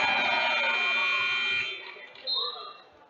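A loud, sustained electronic buzzer sounds at the end of a period in a women's college basketball game between CSU-Pueblo and Adams State, then cuts off to crowd noise and a voice.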